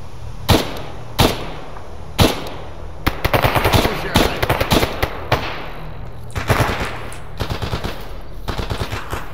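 Gunfire in a firefight in the video game Stalker Anomaly: loud, close single shots at first, then rapid automatic bursts and scattered cracks of varying loudness, continuing to the end.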